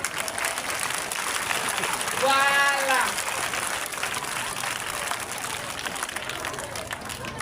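Audience at a school donation ceremony for top students and needy children, applauding in a dense sustained wash of clapping that fades slightly, with a short voice cutting in early on.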